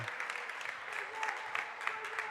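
Faint, steady applause from spectators at a high school Catholic League basketball game, a soft wash of clapping heard at a distance through the gym noise.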